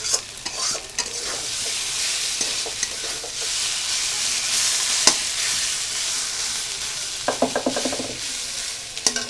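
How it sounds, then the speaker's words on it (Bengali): A spice paste (masala) for mustard hilsa fries in a pan with steady, fairly loud sizzling, and a spoon stirs it in scattered scrapes with a quick run of clinks near the end. "আমি মশলাটা বেশি কড়া পাকাবো না কড়া ভাজা দেবো না মশলাটা"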